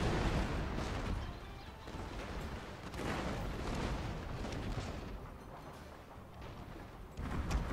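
Line infantry fire rifle volleys in Fall of the Samurai, a video game, giving dense, rumbling, cannon-like booms and crackling gunfire that continue without a break, with no talking.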